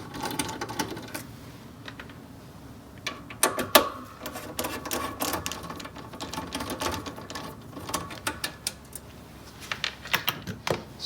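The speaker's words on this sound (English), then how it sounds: "I'll go ahead and remove these 2 screws" Screws are backed out of the heavy steel top cover of an Agilent 6812B AC power source, with quiet close-up clicks, ratcheting taps and small metallic rattles at an irregular pace against a low hum.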